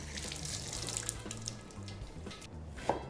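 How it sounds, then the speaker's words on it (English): Tap water runs steadily into a kitchen sink while produce is rinsed under it, a soft continuous splashing with a brief clink near the end, no talk. "Okay, now I'm going to give it a bit of a wash."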